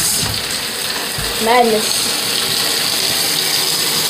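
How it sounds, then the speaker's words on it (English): Bathtub water tap running into a tub with the stopper in, a steady broad rushing gush throughout, with a brief voice cutting in over the flow. "Now I will turn on the water."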